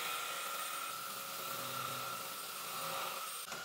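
Moosoo K17-Pro cordless vacuum cleaner running steadily at max suction, a continuous whining motor drone with a high tonal hum, heard alone and fairly close, cutting briefly near the end.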